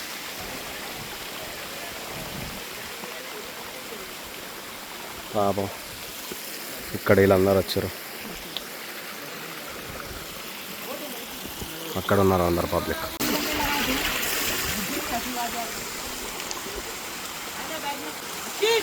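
Clear water runs steadily down a rocky stream at Anantagiri Hills, a constant close rush under bursts of people talking nearby.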